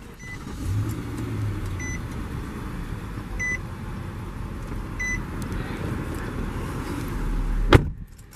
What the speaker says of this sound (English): Go ahead and start it, foot on the brake,